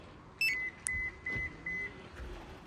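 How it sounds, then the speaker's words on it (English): A Compustar remote starter fitted to a 2015 Subaru Forester gives a series of four short, even electronic beeps close by, with a small click between the first two. "and then it beeps"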